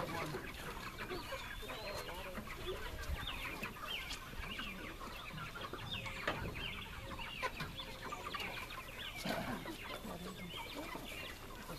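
Chickens cluck steadily at a farm, several birds overlapping in a dense, continuous chatter with an occasional rooster-like call, moderately close, with faint voices in the background.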